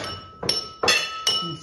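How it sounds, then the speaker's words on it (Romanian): A drinking glass is knocked and shatters in a home kitchen, three sharp bright clinks and crashes spaced about evenly, close and loud with a ringing tail after each. "Spargi paharul."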